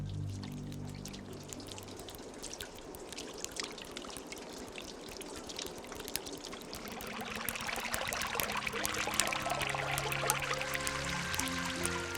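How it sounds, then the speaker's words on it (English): Meltwater from thawing ice in a Norwegian fjord landscape, a continuous trickling and pouring of water with scattered drips, moderately close and steady, growing fuller and busier in the second half. "Droplet by droplet, the water frees itself from the grip of the ice."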